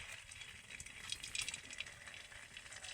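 Rice batter dropped into hot oil for a lacy rice-flour breakfast snack, frying with a steady, moderately loud bubbling sizzle that swells briefly midway and runs continuously without any voices.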